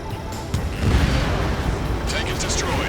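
A missile launch and its explosion on a tank in the combat flight game Ace Combat 7 set off a heavy, rumbling boom that swells and hangs on, followed by crackling debris and a brief higher whine.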